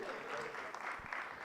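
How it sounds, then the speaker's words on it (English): Audience applause at an award gala honouring the jurors, a dense steady patter of many hands clapping throughout, moderately loud and continuous. "Once again, a round of applause for our jurors."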